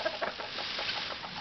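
Repeated harsh, chattering calls from a nearby guinea fowl, rising and falling in quick bursts over steady background noise.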